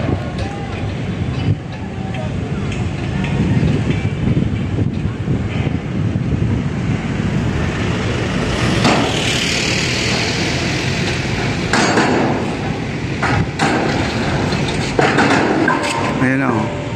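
Strong wind buffets the microphone in a continuous roar, with surging gusts and a hiss of moving air throughout.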